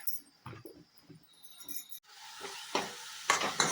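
Turmeric and a spice mix are stirred in a pan, first with a few soft scraping strokes, then with a steadier sizzle and hiss as stirring continues close by.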